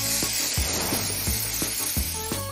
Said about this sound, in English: Spray paint is gonna be perfect for this.